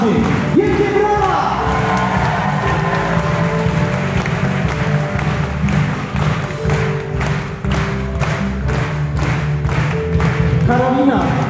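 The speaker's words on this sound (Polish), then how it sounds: "Wielkie brawa!" A concert audience in Chełmek applauds children performing, with loud, sustained clapping and rhythmic thumps. Cheering and talk sound over it.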